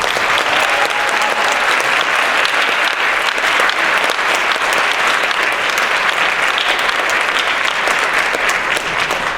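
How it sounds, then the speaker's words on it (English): A college audience at Augustana College gives a huge, loud, dense round of applause to a guest speaker, sustained evenly throughout without pause. "And I want you to give a huge round of applause to Dr."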